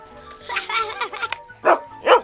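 A dog barks in a few loud, close yaps, with a burst early on and two sharp barks near the end.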